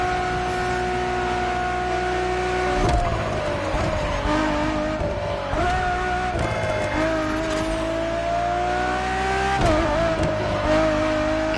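Ferrari Enzo supercar in The Crew Motorfest racing game, its engine whining loudly and continuously through rising revs and abrupt gear shifts, with tire squeal and a few sharp transitions.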